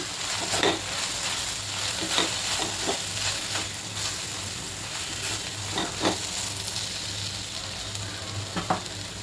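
Spices with Malvani and kitchen king masala sauté in a pan, a steady close sizzle punctuated by sharp scrapes and taps of a spoon stirring at irregular intervals, with no talk.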